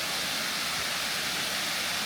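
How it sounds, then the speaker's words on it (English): A woodland waterfall by Wepre Hall near Ewloe Castle roars in a steady, dense broadband wash, loud and close, holding at an even level throughout with no voices over it. "There is the waterfall."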